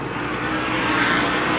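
Short track race cars roaring into a turn at an Oktoberfest racing event, a loud, dense, continuous engine howl from a close pack of cars.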